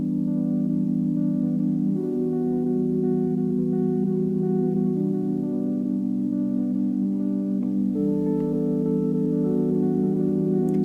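Sustained chords are played on a guitar sample, thick low harmonic layers holding steadily and shifting every few seconds under a faint shimmering top, loud and continuous with no speech.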